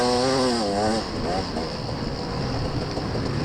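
Dirt bikes in a hare scramble race open their throttles, a loud, continuous two-stroke engine roar with rising pitch sweeps that thickens into a dense wall of engine noise.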